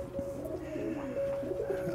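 Fantail pigeons coo softly in a loft, several low rolling calls overlapping across a couple of seconds under faint background noise, with no voices.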